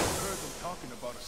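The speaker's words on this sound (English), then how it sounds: "We're making a big boom." A video-game explosion in Tomb Raider: a dense, roaring blast with hissing rumble that fills the short moment and fades slightly toward the end.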